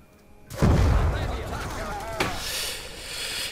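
A thrown grenade explodes in the video game Call of Duty Black Ops II, a loud deep boom followed by a long rumbling decay and a second blast, with a voice calling out just before.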